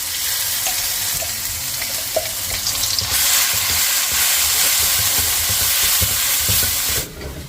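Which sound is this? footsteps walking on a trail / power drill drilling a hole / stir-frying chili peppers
stir-frying chili peppers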